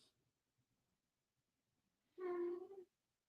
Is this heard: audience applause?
no